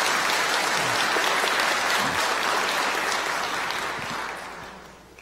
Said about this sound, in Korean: 여러분들 인사드릴 때 따뜻한 환영의 박수 부탁드리겠습니다